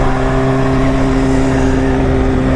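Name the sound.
cars passing in traffic during motorcycle ride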